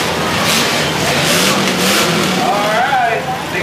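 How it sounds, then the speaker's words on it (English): Demolition derby car engines roar and rev loudly nearby at a county fair, a dense, continuous mechanical din with surging intensity and voices mixed into the noise. "these cars make a little bit more noise"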